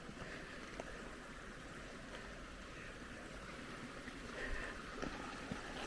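A mountain stream running down toward a reservoir, a steady broadband rush of flowing water heard outdoors at moderate level, continuous and unbroken, with no voices.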